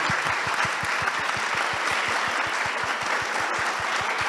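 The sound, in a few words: audience applause for participants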